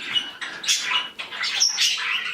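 A pet bird kept indoors gives a series of sharp, high-pitched squawks and chirps, close and fairly loud, in quick irregular bursts with no voices over them.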